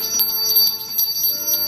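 Bell tones ring out several times in quick succession, with bright sustained overtones layered over one another, moderately loud and with no talking.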